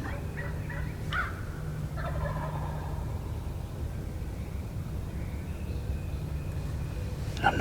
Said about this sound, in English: when he last gobbled, it sounded like he was right by my other trail camera